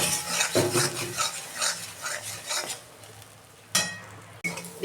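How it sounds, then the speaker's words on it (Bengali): Pointed gourd mash is stirred and dried in a pan: a close, steady run of spoon scraping and soft sizzling, with a few louder utensil knocks near the end and no talking. "আমি নেড়ে চেড়ে একদম শুকনো করে নিয়েছি"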